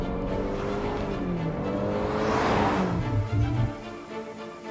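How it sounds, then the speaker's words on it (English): A VinFast car speeds up ahead of a brake test, its engine note rising steadily and loudly over several seconds before easing off near the end, with a broad wash of road and wind noise throughout. "I'm gonna speed up. We're gonna do a bit of a brake test again."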